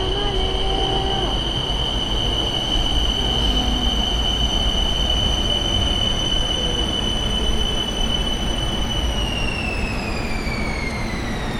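A sightseeing tourist train rolls steadily past, close and loud, with a continuous rumble and a high, sustained wheel squeal throughout.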